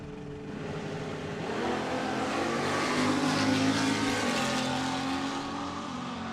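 A 1969 Camaro and a drag-racing motorcycle roar side by side down a drag strip, a loud sustained engine rush that swells in the middle and stays strong to the end, heard from the track.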